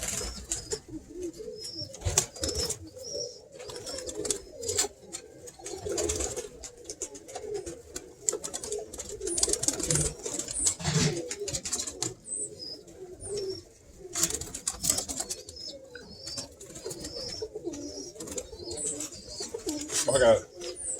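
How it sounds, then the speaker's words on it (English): Pigeons in a coop coo softly and repeatedly at close range, broken by sudden bursts of wing flapping and scuffling, while someone talks intermittently nearby. "I'm gonna start feeding these kit birds"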